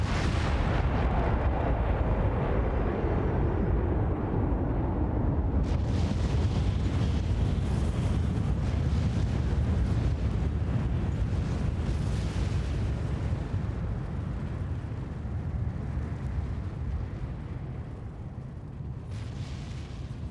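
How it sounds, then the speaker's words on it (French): A deep, sustained rumbling roar stands in for the Big Bang, loud and continuous for about twenty seconds, with a sharper rushing wash joining midway, and no voices. "Le Big Bang."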